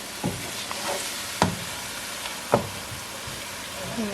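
Masala loosened with a little water roasts in a pan for a cauliflower and potato dish, giving a soft, low simmering sizzle with a few sharp, separate spoon taps.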